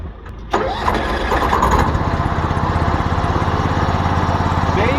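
The pump engine on a wildfire extinguishing vehicle kicks into life with a sudden start, then settles into a steady, rhythmic mid-pitched running chug close by.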